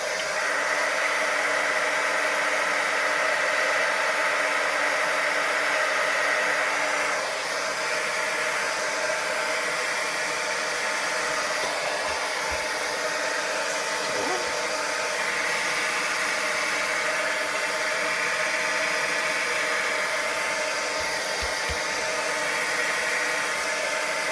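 A hair dryer blows steadily on wet watercolor paint of a pear, a loud continuous whooshing hum held close throughout with only slight shifts in pitch, with no talking.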